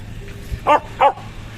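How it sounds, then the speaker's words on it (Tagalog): A dog barks twice in quick succession in an outdoor setting with vendors nearby, each bark sharp and moderately close against low background noise. "Ang ingay ng aso."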